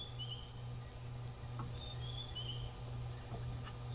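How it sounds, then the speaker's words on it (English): A steady, high-pitched insect drone holds throughout, a continuous shrill buzz of cicadas calling after the first rains, fairly close and unbroken, with no voices. "You get a variety of different kinds of cicadas."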